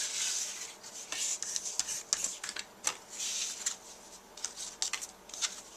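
Snail adhesive tape runner rolled across a handmade card, giving soft close rubbing and scratchy friction strokes in short uneven bursts.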